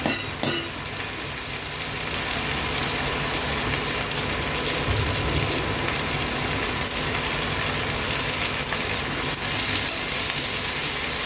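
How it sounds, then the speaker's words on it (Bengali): Chopped water spinach greens fry with potato and eggplant in a pan, a steady, close sizzle and crackle that carries on throughout, with occasional stirring scrapes and no talking. "এবার আমি কেটে রাখা শাকগুলো দিয়ে দিচ্ছি এর মধ্যে।"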